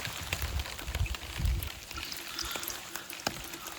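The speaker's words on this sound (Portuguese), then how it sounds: "Vejam a água a correr de fio." Rainwater funnelled off a collecting sheet pours in a thin, steady stream into a canteen, a soft continuous trickling wash with faint scattered drips, fairly quiet and without voices.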